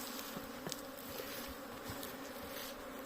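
Bees buzzing at a hive entrance, a dense continuous hum of many insects with brief louder passes close by, quiet and steady throughout.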